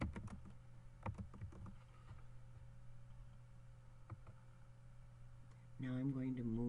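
Soft keystrokes and clicks on a computer keyboard tap out in scattered bursts while a file is renamed, faint under a steady hum, with a voice starting at the end.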